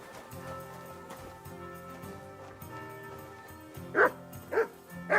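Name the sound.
dog barking in the video game Kingdom Come Deliverance II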